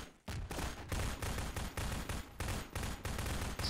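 Gunfire in the video game Half-Life 2: rapid automatic bursts, loud and close, coming in quick repeated volleys with brief gaps between them.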